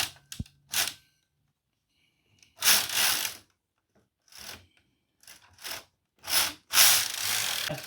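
Corona CN9 knitting machine carriage dragged across a bed with a stiff spot, giving about eight separate rough scraping, ratcheting passes of varying length with silent gaps between, close and fairly loud, with no talking.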